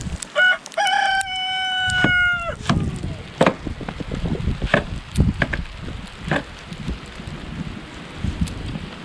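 A rooster crows near the start, then hens cluck and scratch around amid soft rustling and knocking, fairly close, at an off-grid cabin in Alaska after the first winter snow.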